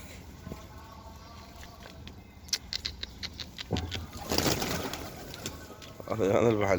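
Domestic pigeons coo softly and patter their wings nearby, with rustling and scratching in the loft and people talking over them.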